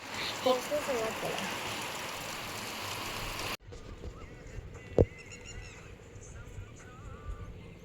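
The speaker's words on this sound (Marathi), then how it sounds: "बाहेर एवढा पाऊस चालू ना आणि आम्ही मध्ये येऊन बसलोय एवढा तुफान पाऊस आहे" Heavy monsoon downpour outside a building: a dense, loud hiss of rain for the first few seconds, then a cut to a quieter indoor scene where the rain is muffled and a single sharp knock is heard.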